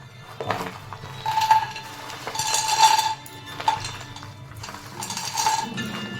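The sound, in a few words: chickpeas, makhana, almonds and nuts added to a kadai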